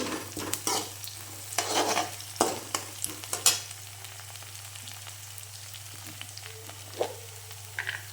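Curry leaves sizzle in hot oil for a green gram stir-fry, with stirring scrapes and utensil knocks clustered early, then a softer steady sizzle over a constant low hum.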